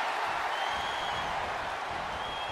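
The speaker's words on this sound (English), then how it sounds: "you hear the crowd letting them know Rhea and Liv are truly delivering something special" A crowd in the WWE 2K24 wrestling game cheers and roars throughout an Extreme Rules match, as a steady wash of noise from a large arena audience with no breaks.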